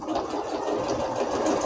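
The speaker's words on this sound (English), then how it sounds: "So I'm just going to begin stitching around the edges." A sewing machine stitching around the edge of a fabric leaf appliqué on a pillow, with a steady, continuous mechanical whir and rapid needle hum, close and even, with no talking.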